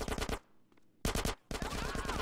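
Rapid automatic gunfire from suppressing fire in Grand Theft Auto: San Andreas, loud bursts of shots broken by a short lull, then resuming steadily.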